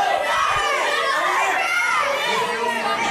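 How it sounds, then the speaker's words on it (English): Loud crowd reaction at a street fight in Paramus, a dense mix of shouting, cheering and overlapping excited voices, including higher-pitched ones, throughout. "Frankie can't hear us over this crowd reaction here in Paramus."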